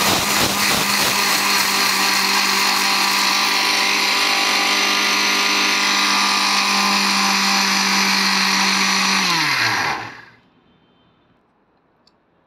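An electric kitchen grinder whirs loudly and steadily as it grinds dry ingredients to mix into flour, then its high whine winds down and cuts off near the end, leaving near silence.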